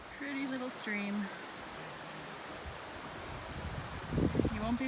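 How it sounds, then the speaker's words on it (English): A small mountain creek runs beside a backpacking trail near Lower Elk Lake, giving a steady, soft wash of flowing water throughout, with people's voices heard faintly over it. "Pretty little stream."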